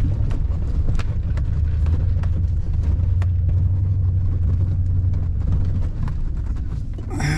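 A four-wheel drive truck pulls out of mud with a loud, steady low engine rumble, heard up close from inside the cab, with some wind noise and faint knocks.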